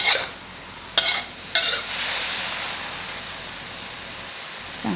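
Pork liver and bell peppers stir-fry in a pan with a steady, hissing sizzle, opening with a couple of sharp clatters of a spatula tossing the mix, then settling into an even, continuous frying rush.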